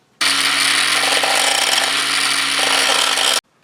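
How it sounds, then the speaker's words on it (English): A power grinder works on metal, cleaning it down to bare surface for a fuel filter and fuel pump ground during an LS engine swap. A loud, steady, close grinding whine runs for about three seconds, then stops abruptly. "So I'm going to grind this down to have a nice clean surface for ground"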